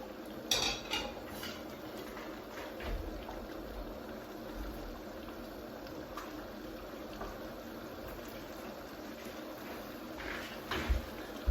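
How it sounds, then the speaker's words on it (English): Pasta stirred in a pot, with scattered clinks and scrapes of a utensil against metal over a low bubbling background, fairly quiet and close. "Check our pasta, make sure we give it a stir."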